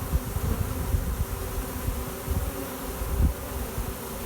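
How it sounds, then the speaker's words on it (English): A steady, dense hum of many honey bees buzzing and fanning at a swarm, close and continuous, with slight swells in loudness throughout. "Now you can see the bees here, they're already starting to sit here and they're fanning really good."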